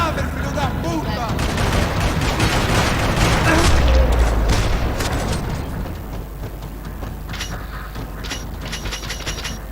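Sustained gunfire rattles through a parking lot in Max Payne 3, dense bursts and booms continuous for the whole stretch, loudest in the middle, with voices shouting underneath.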